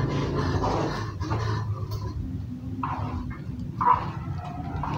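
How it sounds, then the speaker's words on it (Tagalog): Several dogs growl low and rough at close range, a continuous rumbling with a couple of sharper snarls partway through, no talking. "Andito din yung mga aso."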